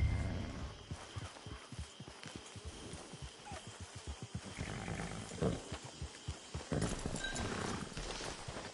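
Rapid, rhythmic hoofbeats of a galloping horse in Red Dead Online pound steadily, with a brief whinny and some rustling ambience toward the end.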